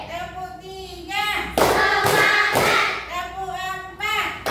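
A classroom of children and teacher clapping in a counted pattern, with bursts of clustered claps between chanted voices, fairly close and lively.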